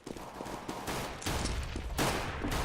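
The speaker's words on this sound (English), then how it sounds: "A lot of decoy nades by the terrorists" Decoy grenades in Counter-Strike on the Inferno map fire fake gunshots, heard as rapid bursts of distant, muffled gunfire that build into a dense fusillade during a competitive match.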